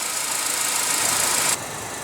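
A 2015 Mercedes-Benz SLK with a 1.8 L turbo four-cylinder idles steadily up close, a smooth hum that drops slightly in level about halfway through, with no talk.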